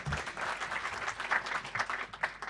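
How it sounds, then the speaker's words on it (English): Audience applause after a team's hackathon presentation, a steady dense patter of many hands clapping that fills the short moment with no voices over it. "Round of applause."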